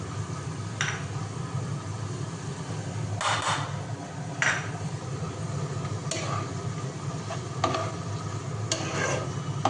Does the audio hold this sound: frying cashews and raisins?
yes